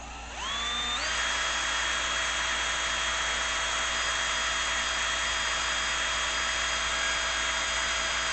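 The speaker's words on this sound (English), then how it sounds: "I'm going to even put the drill in low because I think I got the drill in high." Power drill set to low gear spins up quickly and then runs at a steady whine, driving an old DC motor as a generator; a continuous, even mechanical drone with a constant tone, loud and close.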